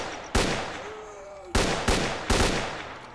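Four loud, sharp gunshots fired in the video game S.T.A.L.K.E.R. Clear Sky, one isolated burst then three spaced shots in a quick rhythm, each ringing out with a decaying tail, no voices.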